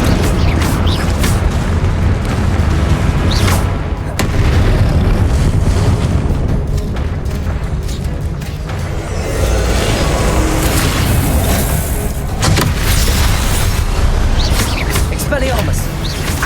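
Confringo blasting spell explosions in the video game Hogwarts Legacy, a dense, continuous barrage of booming blasts and rumbling impacts during spell combat.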